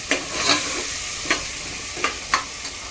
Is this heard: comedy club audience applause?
no